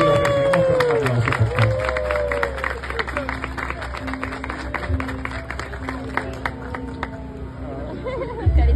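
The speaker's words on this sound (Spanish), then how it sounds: "los recibimos con un aplauso" Wedding guests clap and cheer as a couple is welcomed, the applause mixed with chatter, some laughter and a background tone running beneath.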